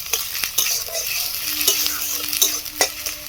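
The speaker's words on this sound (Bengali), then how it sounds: "এই ফাঁকেই আমি দিয়ে দেবো এখানে একটা টমেটো যাতে করে সমস্ত উপকরণগুলো খুব ভালো করে ভাজা হয়ে যায়" Ginger, garlic and green chilli paste frying with tomato in a pan, a close, steady sizzle broken by repeated sharp scrapes and knocks of a spatula stirring, with no voice over it.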